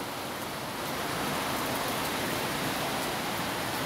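Steady heavy rain pours down as a dense, even hiss that stays loud and unbroken throughout, with no voices.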